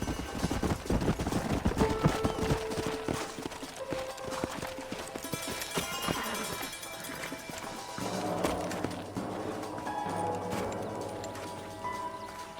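Horses in the Red Dead Redemption video game clip-clop along at a brisk pace, the hoofbeats loud and close, with a whinny and music-like tones rising over them.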